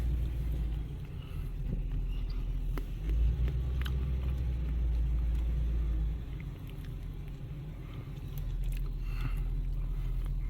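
A truck with a camper backs up slowly, its engine giving a steady low rumble that swells briefly in the middle before settling back to an even drone, with no talking.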